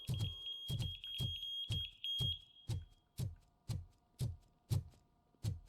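A device in the video game RoboCop: Rogue City beeps to lure a guard: a high electronic tone pulses at first under a run of regular, heavy thudding footsteps, which continue alone in an even rhythm after the beeping stops.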